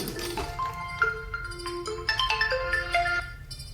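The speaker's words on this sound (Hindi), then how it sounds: "कोई इलेक्ट्रॉनिक्स वाला कोई कॉल कर रहा है" A mobile phone rings with an incoming call, a melodic electronic ringtone of quick bright notes that rises and repeats for several seconds, loud and alone without speech.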